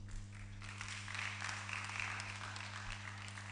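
Audience applause at a health Q&A panel with doctors, a steady wash of clapping from a crowd over a low background hum.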